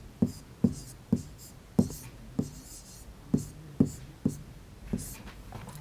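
Chalk or marker writing on a board during a Class 3 maths lesson on measuring length, heard as about a dozen short, evenly spaced taps and strokes in a quiet room with no talking.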